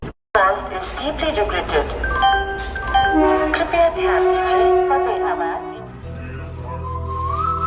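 A railway station in rain, with trains cancelled: a train horn sounds over steady station bustle and a low rumble, with people talking nearby throughout.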